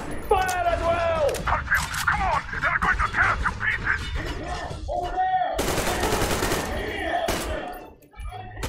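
Gunfire in the Metro: Exodus video game, a loud, dense burst of shots cutting through the middle of constant game noise and an animated voice talking throughout.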